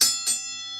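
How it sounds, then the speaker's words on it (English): On the bridge of an Essex-class aircraft carrier, an engine order telegraph bell rings two quick metallic strikes that leave a bright, sustained ringing tone decaying alone. "So now we're going to get a bell for the bridge."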